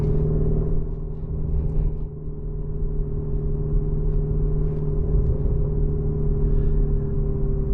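2024 Porsche Cayenne Turbo GT SUV driving, heard from inside as a steady low engine rumble and road drone with a constant hum, smooth and even throughout without sharp revving.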